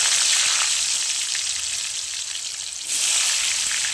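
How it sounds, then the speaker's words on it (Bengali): Small cut potato pieces frying in hot oil for chicken kima, a loud bright continuous sizzle heard up close, briefly dipping before surging again, with no voices. "এবার আমি এর মধ্যে দিয়ে দিচ্ছি কেটে রাখা ছোটো ছোটো আলু থেকে"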